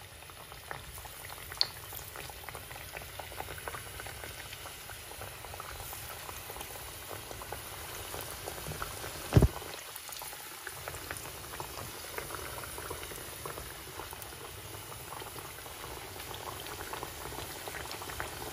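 Sylheti salted pitha dumplings dropped one by one into hot oil in a home kitchen, giving a steady, even bubbling sizzle throughout, with a single sharp clunk partway through.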